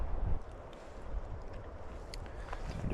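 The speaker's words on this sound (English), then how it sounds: "It's still pretty dang windy down here." Wind blows steadily across the shore of a remote Yosemite lake, a continuous rough rush of air buffeting close to the microphone with no voices.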